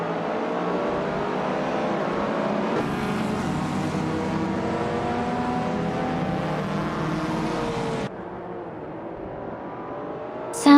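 Race cars roaring in a video game race at Chain Track, among them a 1983 Volvo 242 Turbo: continuous loud engine drone with rising revs and gear shifts, dropping in pitch near the end.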